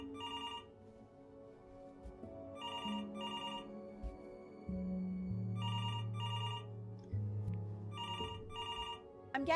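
A telephone in the video game Before Your Eyes rings in repeated double bursts, clear and bright over soft sustained background music.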